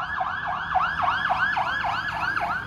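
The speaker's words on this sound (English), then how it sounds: "Sounds like we got another ambulance going by." An ambulance siren wails past near a Buddhist monastery in Ayutthaya, Thailand, cycling through rapid rising-and-falling sweeps that stay loud and steady for the whole stretch, with faint traffic beneath it.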